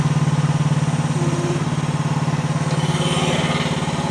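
A Chinese mini skid steer's small engine runs steadily at close range, a loud continuous throbbing idle with a fast, even pulse throughout, heard alone without talk.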